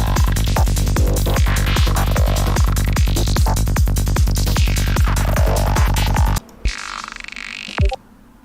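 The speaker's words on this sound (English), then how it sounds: "We have the second request, which is a synth sound, which is a saw wave kind of thing with a high pass on it." Bright sawtooth synth run through a high-pass filter, its tone sweeping up and down in slow arcs over a steady pulsing rhythm, loud and alone, before cutting to a brief thinner filtered tail.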